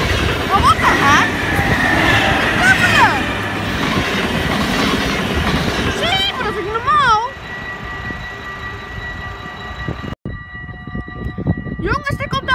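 A train rolls past a railway crossing in Roermond with a steady rumble and wheel clatter, joined by squealing tones and bell-like warning tones toward the end, while people talk over it.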